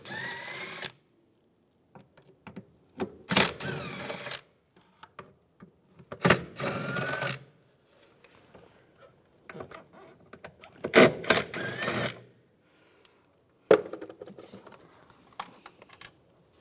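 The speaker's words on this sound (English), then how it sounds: "Now using a T30 socket, take these screws out." Socket driver with a T30 bit removes screws near the cabin filter area of a 2004-2010 BMW X3, several short whirring ratchet bursts and clicks separated by quiet pauses, close and fairly loud.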